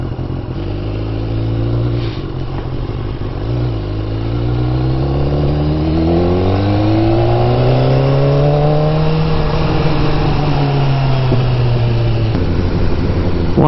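A motorcycle engine hums and rises steadily in pitch as the bike accelerates on a ride, then holds and eases back, all under constant loud wind rush, with no voices.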